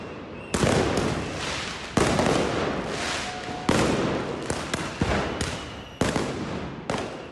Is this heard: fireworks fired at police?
yes